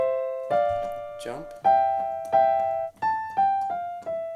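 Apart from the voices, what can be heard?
piano playing Turkish March passage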